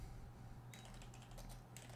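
Typing on a computer keyboard, a quiet burst of rapid clicking starting partway through over a low steady background hum.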